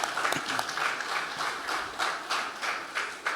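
An outdoor crowd at a plaza ribbon-cutting ceremony claps in a thin, scattered way, with sparse rhythmic claps repeating at a moderate distance.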